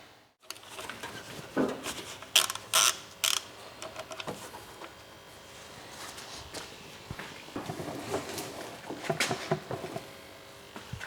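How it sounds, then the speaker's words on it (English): Ratchet fitted with a 14mm socket undoing the sump plug on a Toyota Yaris T-Sport, a close burst of clicking ratchet strokes followed by quieter metallic handling and shuffling noise, with no speech. "using the ratchet with the 14mm socket to obviously undo the sump plug"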